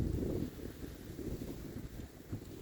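Strong outdoor wind buffets the microphone in a continuous low rumbling roar that swells and eases, loud and close, with no voices.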